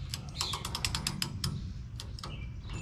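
The rear wheel hub adjusting bolt on a Ford F350 is turned slowly during a wheel bearing replacement, giving a quiet run of close, sharp ratcheting clicks followed by a few sparser ticks, with no talk.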